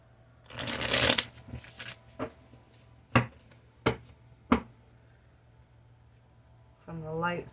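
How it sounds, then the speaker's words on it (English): A Light Seer's tarot deck is shuffled by hand, a dense riffle of card flicking followed by several short separate taps and slides, with a brief voice at the end. "So I also want to pull some tarot."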